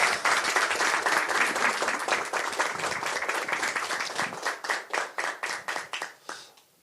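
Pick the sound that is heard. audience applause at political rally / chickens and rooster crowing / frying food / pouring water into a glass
audience applause at political rally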